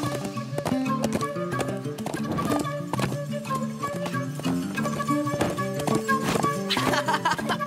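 A cartoon horse gallops in a quick, steady clip-clop of hooves under a bed of music, close and lively, with a brief whinny-like call near the end.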